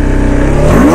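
Kawasaki H2 motorcycle engine revving hard for a wheelie, loud and close, its pitch climbing steadily toward the end of a short burst.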